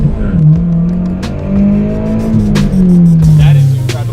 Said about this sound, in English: my car feels a lot faster now.